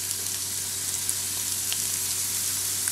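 Onions and cumin frying in oil for an Indian lentil curry, a steady close sizzle with faint crackles and no talk.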